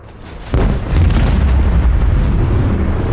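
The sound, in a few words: macro cannons firing in Rogue Trader video game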